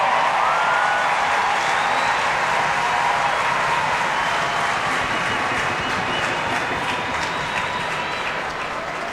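Stadium crowd at a USWNT vs New Zealand women's soccer match roaring and applauding as Carli Lloyd comes on, a loud, steady wash of cheering and clapping that holds for several seconds.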